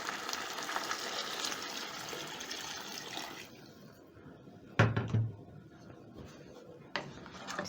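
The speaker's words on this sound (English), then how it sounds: "I'm going to add in water." Water poured into a cooking pot while preparing African beef and sukuma wiki, a steady rushing pour that stops partway, followed by a few clunks and knocks.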